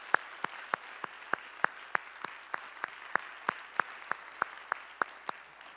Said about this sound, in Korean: 우리 모두 자리에서 일어나셔서 기립하셔서 박수하시겠습니다